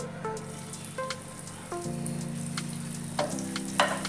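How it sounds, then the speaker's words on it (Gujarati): Garlic and chili sizzle in hot oil with cumin in a pan, giving a steady close frying hiss with scattered crackles and pops, alone without talk. "અને લસણની મરચું આપણે અંદર સાતળી દઈશું"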